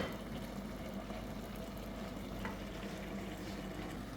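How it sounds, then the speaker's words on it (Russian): Eggplant and rice simmer in a pan, giving a steady, even bubbling and sizzling hiss that stays constant and close, with no voices. "Видите, как у вас кипит все это хорошо."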